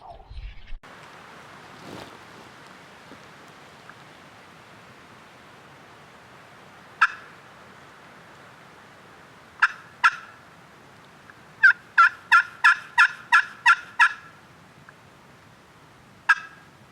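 Turkey calls ring out during a windy hunt in the Kentucky mountains: a few scattered yelps, then a quick run of about eight sharp, evenly spaced notes and one final call, over a faint breezy background.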